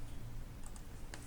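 Brief bursts of typing on a computer keyboard, a few quick clicks close by over a low steady room hum, with no talking.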